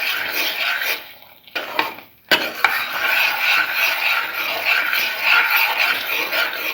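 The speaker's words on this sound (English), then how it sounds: "Keep on mixing." Spoon scraping and stirring coconut milk corn flour pudding in a pan, a continuous close swishing and scraping with a brief clank and a short pause midway, no voices.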